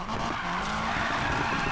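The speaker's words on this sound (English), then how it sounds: "Let's see if we can get some clean drifts here." A Nissan Silvia Rocket Bunny drifts in Need for Speed Payback, with steady, loud tire skidding and engine noise running without a break through the short stretch, and no voices on top.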